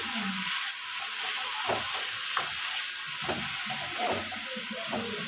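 Onions and green chilies sizzle and fry in a pan with already cooked fish for a Tamil fish thoran, a steady close hiss broken by intermittent stirring scrapes.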